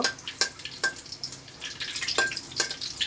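Garlic and dried red chilli frying in oil in a pan, a steady light sizzle broken by a few sharp stirring scrapes, close and alone with no talk.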